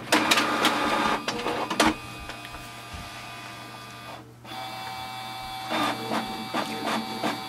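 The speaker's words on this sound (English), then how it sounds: "You can see how fast is the printer for the copy as well." A Canon TR4540 all-in-one printer makes a copy, with whirring feed motors, rhythmic clicks and mechanical clunks, a pause midway, then more bursts of printing nearby.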